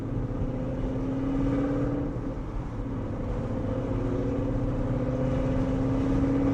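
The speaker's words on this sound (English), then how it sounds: "I got a stupid car with shitty exhaust, so I'm gonna make everybody listen to it." A car with a loud, poor-quality exhaust drones steadily and close by for several seconds, its low engine tone holding and then climbing slightly as it revs, with no talking over it.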